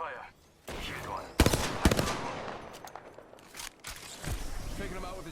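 Video game gunfire strikes the player's character in a burst of sharp, loud shots and impacts, a dense cluster around the middle then scattered hits, over constant game noise.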